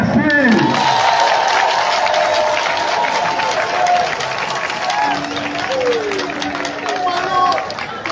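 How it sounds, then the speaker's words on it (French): A crowd at a political rally in Mouila applauds and cheers continuously, a dense wash of clapping and shouting with whistles rising through it, loud and sustained throughout. "Est-ce qu'on applaudit le président Chambrier?"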